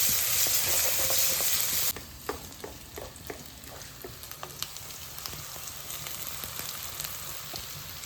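Onions frying in a pan for chicken fried rice are stirred steadily, giving a dense close sizzle with a clear scraping stir and a louder burst of hiss in the opening seconds.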